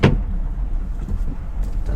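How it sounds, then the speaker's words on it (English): A car rolls slowly along a gravel driveway, giving a steady, close, low rumble with crunching texture under the engine and no talking. "I'm sure the gravel driveway is excruciatingly loud."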